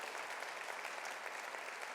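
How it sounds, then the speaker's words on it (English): A conference audience applauds employers, a dense steady wash of clapping from many hands filling the room without pause. "can we please give every single one of those a massive round of applause now"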